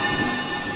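A purple train in Kingdom Hearts 2 rumbles along the rails in a steady, dense roar with faint squealing wheels, continuous and close throughout the short moment.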